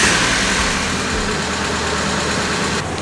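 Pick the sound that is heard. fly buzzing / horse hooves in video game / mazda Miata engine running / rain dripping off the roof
mazda Miata engine running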